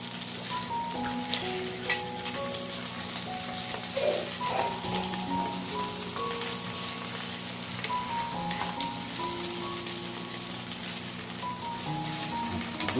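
Tilapia wrapped in pumpkin leaves fries in oil in a pan, giving a steady, close sizzle with light crackle that runs unbroken throughout.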